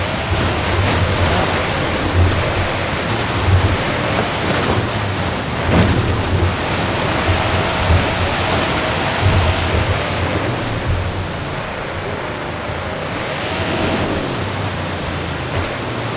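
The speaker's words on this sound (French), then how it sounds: "je crois que c'est la cascade" Steady, broadband rushing water fills the whole clip, a video game waterfall in Forza Horizon 5 heard up close with a constant roar and no pauses.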